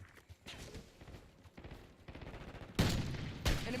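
Gunfire in a Black Ops 6 match on the Nuketown map, with an enemy marksman shooting. Scattered shots and short bursts come at a moderate distance, growing louder and denser toward the end.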